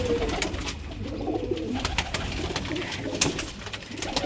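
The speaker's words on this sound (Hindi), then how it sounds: "ये देखें जी, लाल जैलदार कबूतर जो अपने अमृतसर कबूतरों के नाम से बहुत मशहूर है" A red Jaildar pigeon from Amritsar coos in soft, repeated low calls, close by, with a faint rustle of other birds behind.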